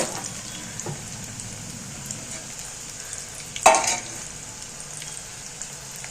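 Cabbage pakoda frying in hot oil gives a steady, soft sizzle throughout, with a brief louder clatter of stirring midway.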